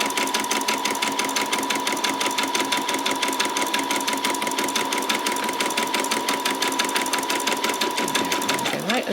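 Sewing machine runs continuously as it back-stitches through fabric, a fast, even mechanical clatter with a steady hum that changes pitch just before it stops at the very end.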